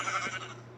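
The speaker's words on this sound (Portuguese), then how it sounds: "Vamos atacar essa ovelha." A sheep bleats once, short and wavering, in the Minecraft-style video game Craftsman, heard close over a steady low background hum.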